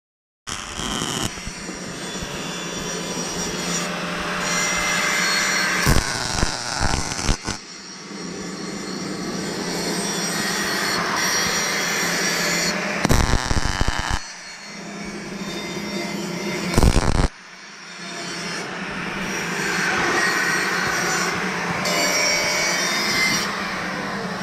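A saw blade cutting through material while making a Portawrap and bollard, a long harsh whining grind that runs in sustained stretches broken by brief stops and sharp bursts, close and loud with no talk.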